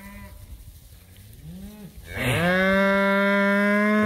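Grazing cattle feeding on brown fescue grass, one cow letting out a loud, drawn-out moo close by that swells and holds steady, preceded by fainter lowing.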